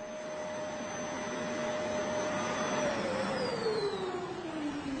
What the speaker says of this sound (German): Sie sollen das Geräusch mehrerer Staubsaugermodelle bewerten.